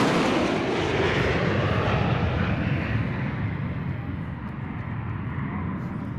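Croatian Air Force MiG-21 fighter jets fly past with a loud, continuous broadband jet roar that fills the whole stretch and eases off slightly toward the end.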